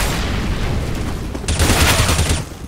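An incendiary grenade bursts in CS:GO gameplay, a dull boom followed by a hissing, crackling fire spread, loud and close, with no talk.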